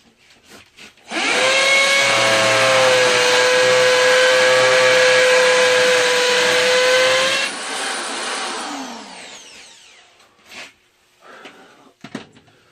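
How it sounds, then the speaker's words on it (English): A cheap hammer drill with a masonry bit grinds loudly and steadily into concrete block for several seconds, then winds down, followed by a few knocks and handling sounds. "hammer drill with the masonry bit"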